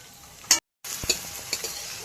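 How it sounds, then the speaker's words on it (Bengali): Grated ginger and garlic with chopped green chilli and spring onions sizzling softly in oil, stirred with a spoon, a brief clatter, a short silence, then gentle frying and scraping close by. "তেলে আমি আদা রসুন গ্রেট করা দেবো, কাঁচা লঙ্কা কুচি, অল্প নাড়িয়ে নিতে হবে।"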